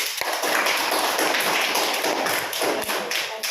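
A group of children claps together in a government school classroom, producing a steady, loud, dense patter that lasts the whole stretch with no break.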